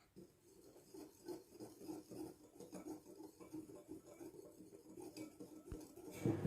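Flour, baking powder and salt mixed in a bowl for waffle batter, giving a faint, continuous soft scraping and light clinking of a utensil against the bowl for several seconds, with a louder clatter at the end.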